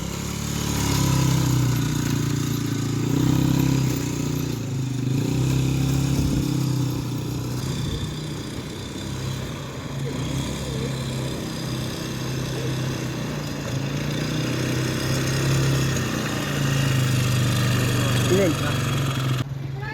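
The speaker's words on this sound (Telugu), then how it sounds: "అలా సఫారీ నుంచి వచ్చాక క్యాంపులో క్వాడ్ బైక్స్ కూడా తీసుకున్నాము." Quad bike engines idle and rev at a desert safari camp near Muscat, Oman, a steady mid-pitched motor drone running throughout while people talk over it.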